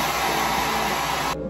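A handheld hair blower runs steadily at full power, a loud, close, continuous whooshing drone that cuts off abruptly at the end.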